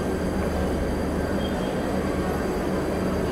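A double-decker passenger train on the Delhi to Lucknow line rolls along with a steady, even rumble and clatter heard from on board, continuous and moderately loud throughout.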